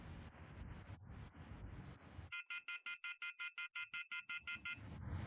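Phone call being placed: a burst of rapid dialing tones followed by a regular repeating ringback tone, about a dozen evenly spaced pulses, heard alone and fairly faint.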